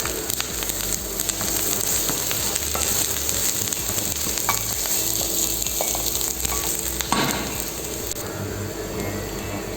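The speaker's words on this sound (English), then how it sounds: "heat a pan, add oil to it. Add fine chopped ginger, fine chopped garlic," Fine chopped ginger and garlic frying in hot oil in a pan for Thai-style noodles, giving a loud, continuous sizzle with crackling pops and a brief stirring scrape partway through.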